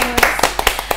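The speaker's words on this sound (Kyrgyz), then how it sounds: "Кол чабуулар" A few quick, uneven hand claps ring out at a Bishkek game show, a short burst of close clapping with faint voices mixed in.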